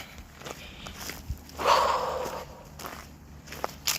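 Footsteps of hikers walking down a gravel road on the Pinhoti trail, a steady crunch of steps close by with a brief louder scuffing burst midway, no talking.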